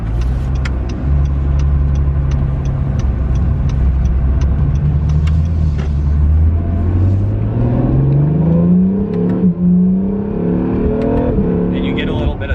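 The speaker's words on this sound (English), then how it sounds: "And you get a little bit of turbo noise." An Acura NSX engine pulls hard under acceleration from a launch, its low drone rising smoothly in pitch with a faint turbo whistle over the exhaust, loud and close, with a passenger's voice speaking over it.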